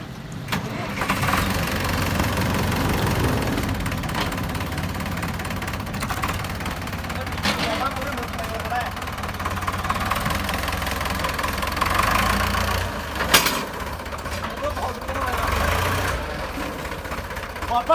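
A tractor engine idles with a steady low rumble that holds through the whole stretch, while people talk over it close by.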